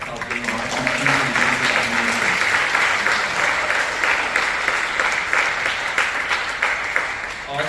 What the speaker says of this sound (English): Can we give a round of applause to all those that helped in